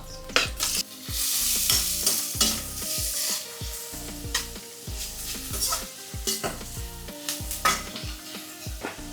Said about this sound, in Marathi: लसणाचे बारीक असे तुकडे केलेले आहेत हे बघा मी टाकते यामध्ये कांदा